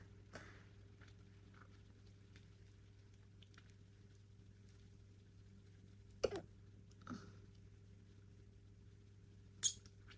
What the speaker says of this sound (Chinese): 我一打嗝非常难停下来